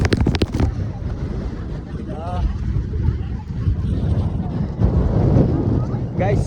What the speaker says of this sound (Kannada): ಗಾಳಿ ಅಂತೂ ಹೆವಿ ಪ್ರೆಸರ್ ದುಡ್ತೈತೆ